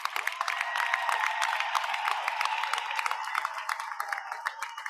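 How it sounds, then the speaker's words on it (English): At the Maple Heights City Schools Class of 2024 graduation ceremony, a large audience applauds the graduating class with sustained, even clapping that carries at a moderate distance and continues throughout. "Please give them a round of applause."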